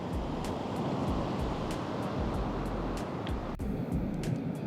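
Rough, continuous roar of strong sea surf on the Ilocos Norte coast near wind turbines, mixed with wind buffeting the microphone, loud and unbroken throughout.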